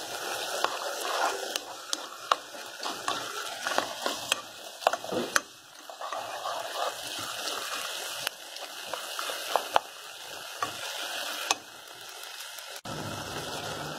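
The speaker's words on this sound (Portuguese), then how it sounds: "Aí eu misturei agora a ervilha, o milho verde, a azeitona." A spoon scrapes and clicks against a pan while peas, green corn and olives are stirred in olive oil with onion and garlic for Brazilian couscous, a steady run of soft irregular taps and scrapes close by.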